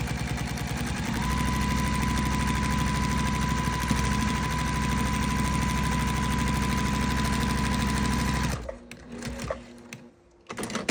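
A home sewing machine with a walking foot quilts fabric in a fast, even mechanical chatter that runs steadily and close for several seconds, then stops abruptly and leaves a few scattered handling noises.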